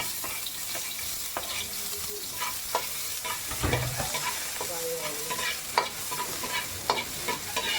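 Onions fry in a hot pan with steady stirring, giving a continuous close sizzle broken by occasional scrapes of the utensil against the pan.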